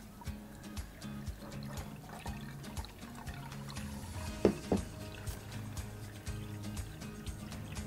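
Water poured over coffee grounds in a Mizudashi cold brew pot trickles softly and unevenly, with light splashes and a couple of sharper drips over a faint background hum.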